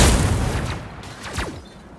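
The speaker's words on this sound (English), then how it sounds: "It'll make an explosion for the things that you put down." A Flaming Meteor explosion from the Human Torch in the video game Marvel Rivals: a loud boom that opens the clip, then whooshing fiery streaks sweeping downward and fading.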